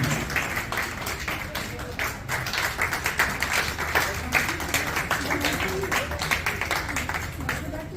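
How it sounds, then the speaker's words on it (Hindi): Audience at a Women's Day felicitation ceremony for 51 women applauds steadily, a busy, moderately loud patter of clapping in a hall with voices mixed in. "तालियां बजाते हुए इनका अभिनंदन होना चाहिए"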